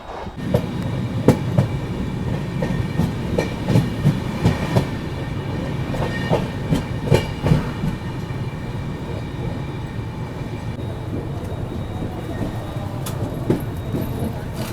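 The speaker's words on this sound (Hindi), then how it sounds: "बगल से अभी ये क्रॉस हुई अपनी कोयम्बतूर चेन्नई शताब्दी।" The Coimbatore–Chennai Shatabdi passes alongside with a loud, steady rumble and rhythmic clickety-clack of wheels over rail joints, lasting throughout.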